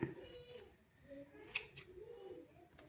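Scissors cutting cloth during a basic tailoring lesson, a few faint quick snips close by in a quiet room.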